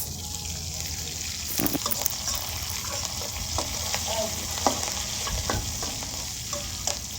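Green chillies stirred in a hot frying pan while cooking bottle gourd with prawns, giving a continuous close sizzle broken by repeated scraping and clinks of the spatula.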